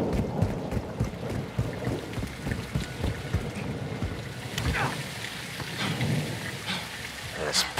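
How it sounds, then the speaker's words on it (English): Heavy rain pours down in Call of Duty: Modern Warfare 2, a dense, steady hiss of drops on surfaces with a low rumble beneath, loud and continuous throughout. "It's raining fucking hard."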